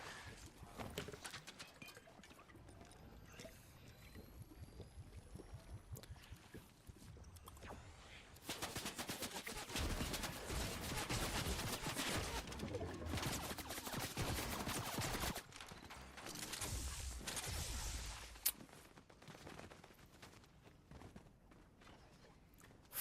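A heavy gunfire barrage in a Fortnite match, heard as dense, continuous rattling shots that swell loud through the middle section, with fainter scattered fire and game noise before and after.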